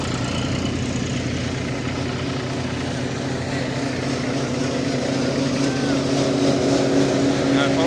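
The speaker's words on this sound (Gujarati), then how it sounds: "હવે નવું હલર ને નવું ટ્રેક્ટર" A new tractor drives a thresher shelling green groundnuts, a loud, steady engine drone that runs unbroken and close by throughout.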